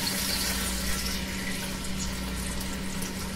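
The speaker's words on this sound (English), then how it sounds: "you can add about half a cup to a cup of wine right to the pan" Chianti red wine is poured into a pan as a steady, close liquid stream with a soft background hum.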